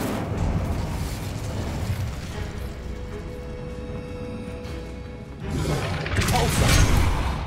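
Incendio fire spell blasting in Hogwarts Legacy, a dense roaring burst rising near the end over steady game noise and rumble, with a voice speaking briefly amid the action.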